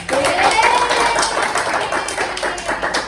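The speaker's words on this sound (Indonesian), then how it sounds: "Beri tepuk tangan anak-anak." Children in a classroom clapping for a group, a loose burst of uneven hand claps with voices talking over and around it.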